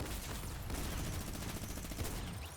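A pump shotgun in Fortnite Battle Royale fires amid a dense, distant-sounding clatter of repeated gunfire that stays steady and fairly quiet throughout.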